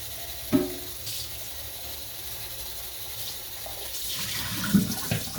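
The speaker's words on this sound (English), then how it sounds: "I'm going to rinse this out." Tap water runs steadily as a container is rinsed out at a sink while making orange honey shampoo bars, with a couple of short knocks of the container against the basin.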